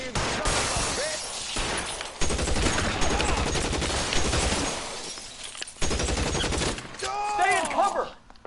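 Sustained video game gunfire in LA Noire, dense rapid shots and bursts with crashes, loud and continuous with a brief gap, under a shouted voice at times.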